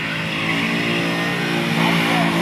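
A V8 Ford Mustang spins its rear wheels at a drag strip, with a loud, sustained engine roar and a steady tire-smoking rumble through the whole stretch.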